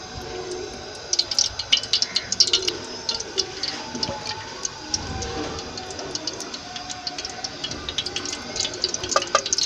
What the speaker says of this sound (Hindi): सबसे पहले हम डालेंगे 2 कप घी।